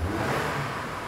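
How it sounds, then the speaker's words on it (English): A car engine revs up during a mass air flow sensor diagnosis for fuel trim faults, a steady, close, mid-pitched roar that holds for about a second. "Go ahead and rev it up, Fritz."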